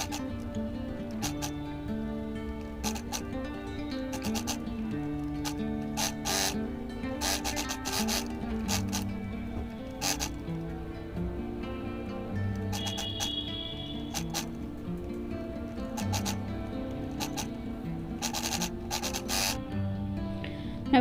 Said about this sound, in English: So we'll stitch all around over here.